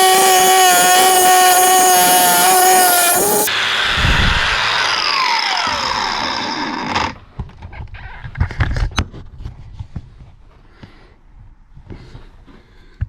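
A hydraulic door closer unit is cut open with a power saw, the loud whining cut running for several seconds and then breaking off into scattered knocks and clatter of metal parts.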